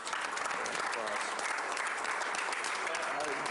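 A standing ovation at a business meeting: dense, continuous clapping from a room full of people, even in loudness throughout, with murmured voices underneath.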